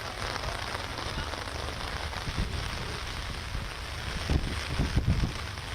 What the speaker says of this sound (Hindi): राजधानी भोपाल में आज सुबह से ही लगातार तेज बारिश का और तेज हवाओं के चलने का दौर जारी है।